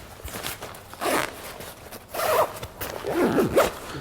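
A Berghaus Freeflow 20 rucksack being zipped up close by, with several quick rasping zip pulls in short bursts and no talking.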